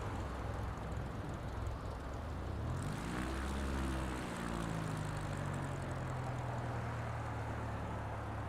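A Piper Cub propeller plane in a flight video game drones with a steady engine hum that swells and shifts pitch midway as it climbs, then settles into a lower sustained tone.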